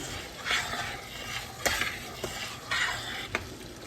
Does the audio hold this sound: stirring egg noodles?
yes